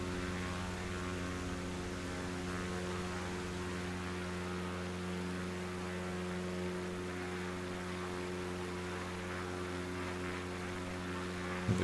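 A propeller aircraft engine runs steadily at close range on a bush trip in North Queensland, a loud, even drone with strong low harmonic tones holding constant throughout.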